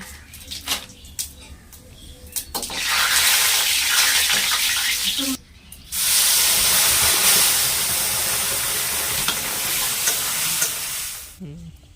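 Chili tempering sizzles loudly in hot oil for Bengali dal, a sustained frying hiss that cuts off briefly midway and then resumes, with faint voices in the background.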